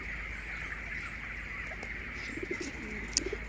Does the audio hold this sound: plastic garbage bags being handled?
no